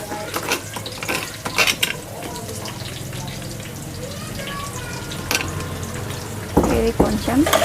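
Ingredients for veg biryani fry and get stirred in a pan, a steady sizzle with scraping stir strokes and occasional clatter of utensils, continuing without pause through the clip.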